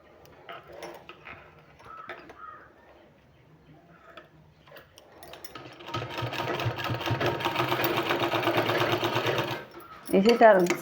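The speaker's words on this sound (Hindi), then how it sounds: "दोनों साइड इसी तरह से सिलाई लगा देना है।" A sewing machine stitching a fabric sleeve runs in a fast, steady mechanical rattle for several seconds, preceded by a woman's speech and quiet handling of cloth.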